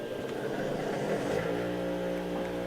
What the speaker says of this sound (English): And I'm gonna turn on the vacuum.